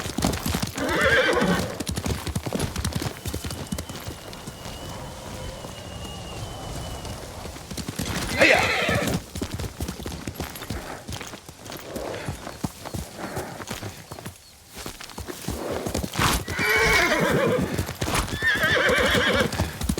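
Video game horse in Ghost of Tsushima: hooves clip-clop steadily while the horse whinnies in several loud bursts, with rustling and shuffling noises between them.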